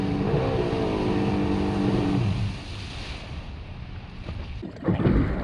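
A loud, rushing intake roar from a heavily modified triple-swap Superjet jet ski with a rising tone fades to a lower rumble, then surges again briefly near the end.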